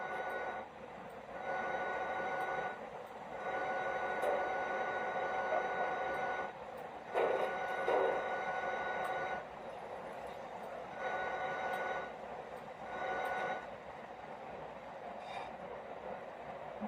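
Train rolling along the tracks in the physics sandbox video game Teardown, a continuous rumbling drone with periodic louder surges and faint clatter, no voices.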